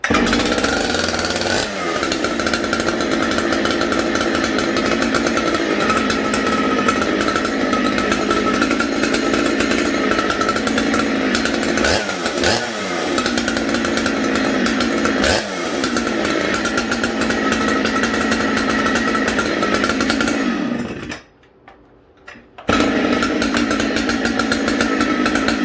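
Jonsered 2095 95 cc chainsaw running loud and close at a steady high idle, with occasional throttle dips and a brief cut-out near the end before it roars back.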